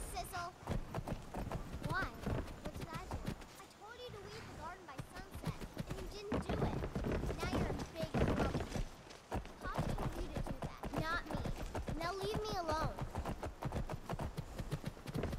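Rapid, continuous clip-clop of horse hooves from the video game Skyrim: Wildlander runs throughout, mixed with occasional whinnies and game ambience, while someone talks over it.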